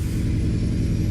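A truck engine in a trucking game, hauling heavy machinery, gives a loud, steady low rumble close up with no voices.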